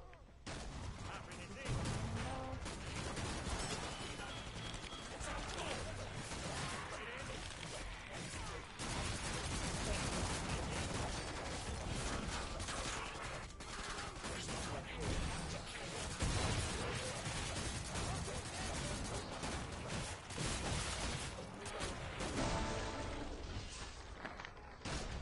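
Dense, continuous gunfire from the co-op zombie shooter Killing Floor 2, a loud, unbroken wash of shots and blasts with game music and effects layered throughout, all at close range.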